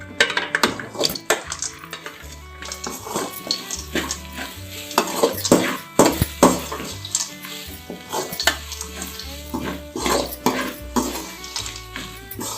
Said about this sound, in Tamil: இப்போ தேங்காய் வதங்குற வரைக்கும் நம்ம அப்படியே ஸ்லோவில் வச்சு வதக்கலாமோ